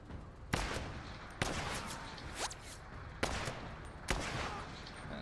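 Mortar fire in the video game Menace: four sharp, booming blasts spaced about a second apart, each with a short rumbling tail over a steady low battle ambience, with no talking.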